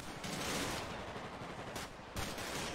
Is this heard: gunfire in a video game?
yes